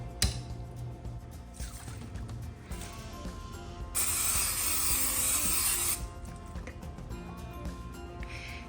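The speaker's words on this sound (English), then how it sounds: "I'm just gonna dry this and then spray it with some olive oil" Several quick pumps of a spray bottle misting olive oil, a dense broadband hiss lasting about two seconds, heard at close range in a home kitchen while preparing tater tots on a tray with background clatter.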